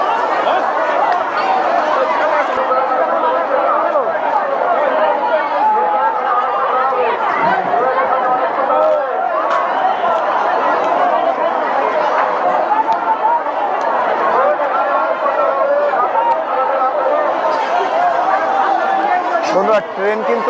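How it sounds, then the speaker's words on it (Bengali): A dense crowd packs Thakurnagar railway station during the Matua fair, a continuous murmur of many voices talking at once, close and steady without pause. "এইটা হচ্ছে আজকের ঠাকুরনগর স্টেশন"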